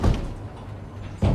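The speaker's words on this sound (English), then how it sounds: "Oh, the door!" A door in the horror film M3gan bangs twice, a heavy thud at the start and another just over a second later, with a low rumble between.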